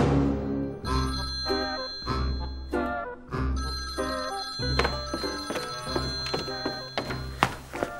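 A mobile phone rings with a bright, repeating electronic ringtone, regular bursts of tones about once a second, fairly close and loud, with no talking over it.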